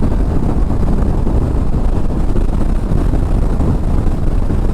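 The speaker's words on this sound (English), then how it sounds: "We're currently in 6th gear on the highway and we're getting an eco indication" A 2024 Kawasaki Ninja 500 motorcycle cruising in sixth gear on a highway at about 75 mph, heard as a loud, constant roar of wind buffeting and engine drone with no speech.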